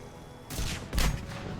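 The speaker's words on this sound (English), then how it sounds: "Oh, hi there, explosion." A video game explosion gives two quick, loud, broadband blasts in succession, with a rumbling tail and no voices over them.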